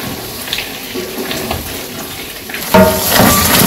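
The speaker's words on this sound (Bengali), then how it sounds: "এখন জল দিয়ে দিব।" Water poured into a pot of chicken in a village kitchen, a splashing, running-water rush that swells loudly near the end over faint background clatter.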